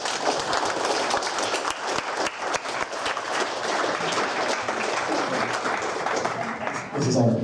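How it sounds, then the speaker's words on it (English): An audience at a junior hackathon claps in a sustained round of applause with crisp individual claps, some distant chatter beneath, and a voice cutting in near the end. "round of applause"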